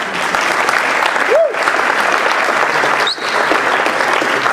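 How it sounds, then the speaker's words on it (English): A charity event crowd breaks into steady, loud applause, a continuous wash of many hands clapping, with a couple of short whistles cutting through. "A round of applause for Kirk, please"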